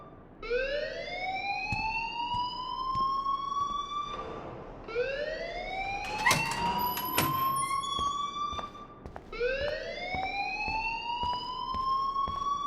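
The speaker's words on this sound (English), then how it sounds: "please turn off that alarm since that's your job" A repeating alarm siren rings loudly through a school building in the video game Life Is Strange, each rising wail sweeping up and holding before restarting, with a sharp clattering burst partway through.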